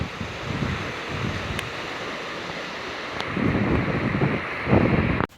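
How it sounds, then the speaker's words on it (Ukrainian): Steady desert wind in Peru buffets the microphone with a broad rushing roar, gusting stronger toward the end. "вітер став попутний"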